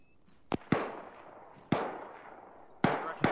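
Rifle fire in the military shooter game Arma, played by a realism unit on a combat patrol: four sharp, separated shots at irregular intervals, fairly distant, each trailing off in a short echo.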